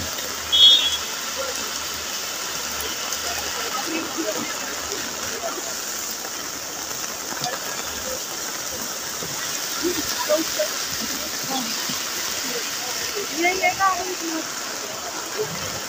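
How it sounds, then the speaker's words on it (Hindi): Heavy rain falls over an apple garden in Kufri, Himachal Pradesh, a soft, steady hiss and patter with faint drips throughout, heard from outdoors at a moderate distance. "जबरदस्त बारिश लगी हुई है।"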